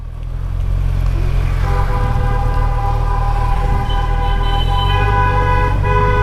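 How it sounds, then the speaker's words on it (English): Car horns honk continuously in dense night traffic on a road in Hyderabad, India, several overlapping tones sustained over a constant low engine rumble, loud and near. "And everyone's honking."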